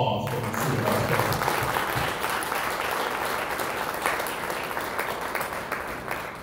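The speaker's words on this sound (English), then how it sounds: "give her a round of applause for the senior vice president" Audience applause for a senior vice president at a book signing and fashion show event; steady, dense clapping from a crowd that holds for several seconds and fades slightly at the end.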